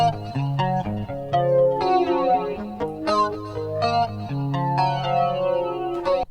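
Tonal sound run through Eventide effects units, with chorus, distortion and echo on a shifting, pitched, harmonically rich texture, loud and continuous with no talking.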